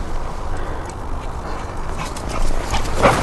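A search and rescue dog trained on air scent makes faint dog sounds in open hill country, set against steady wind-like outdoor noise, with a brief louder sound near the end.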